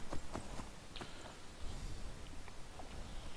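Horse hooves clip-clop in the Skyrim video game, a run of uneven, fairly close hoofbeats on open ground with a faint background bed and no talk.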